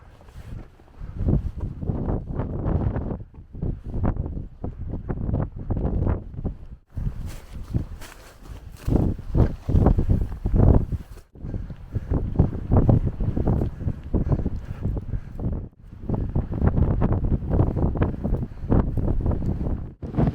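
Strong gusting wind on a rocky mountain summit in the Dragoon range of Arizona, roaring and buffeting the microphone in heavy low rumbling waves that rise and fall throughout.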